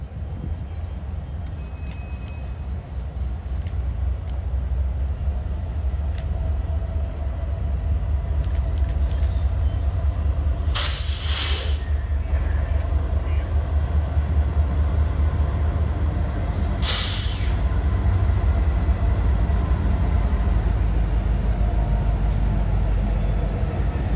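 A BNSF or Union Pacific freight train rolls along the rails in the Arkansas Delta with a low, continuous rumble, and two short, sharp metallic bursts break through partway along.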